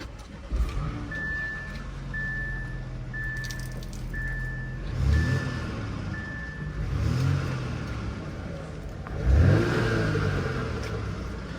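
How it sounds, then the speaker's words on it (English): An Audi A5 S-Line with a 2.0 turbo engine runs and revs at an auction lot, with several rising revs over a steady idle and an intermittent beeping tone early on. "this one has some rattle in the engine as well"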